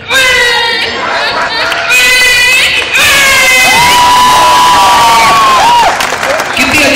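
A fresher party crowd at CURAJ in 2011 erupts in loud, continuous applause, cheering, whoops and high shouted voices, all close and dense for the whole stretch.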